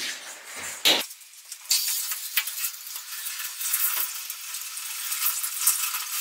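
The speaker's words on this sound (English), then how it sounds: "And then I'm just gonna rinse it down with water." Water rinses down a bathroom after cleaning, a steady close hiss of running and splashing water with a few knocks near the start.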